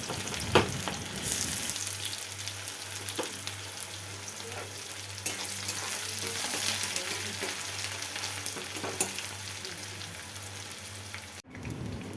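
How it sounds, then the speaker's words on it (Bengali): Sliced onion frying in a pan for a meat curry, a steady dense sizzle with crackling that runs close and even for most of the stretch before cutting off abruptly near the end. "চলো পেঁয়াজটা এখন ভাজছি"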